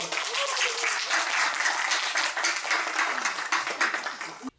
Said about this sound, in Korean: 큰 박수 한 번 더 부탁드립니다.